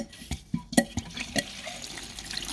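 Aquarium water draining out of a planted fish tank through a hose, with irregular splashes, drips and gurgles of water close by.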